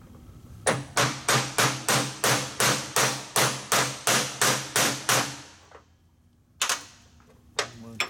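A socket is hammered to drive a seal into place on a 1947 Harley. About a dozen loud, sharp metallic strikes come in quick steady rhythm, then a pause, then two more separate blows.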